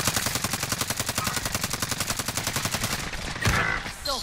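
Rapid automatic gunfire in a multiplayer shooter video game, a steady loud stream of evenly spaced shots for about three seconds, then a heavier blast and scattered game sounds.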